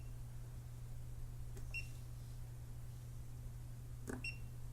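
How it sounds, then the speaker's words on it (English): Two short electronic beeps from a Hioki DT4252 digital multimeter as it detects voltage, spaced a few seconds apart over a steady low mains hum. "you do get a nice beep when it detects the voltage like that"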